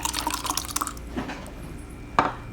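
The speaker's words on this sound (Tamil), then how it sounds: "இப்போ நம்ம இதை ஒரு டம்ளரில் மாற்றிக்கிறலாம்." A homemade cold drink poured into a tumbler, with liquid splashing and trickling faintly near the mic, ending in a sharper drip or clink, and no talk.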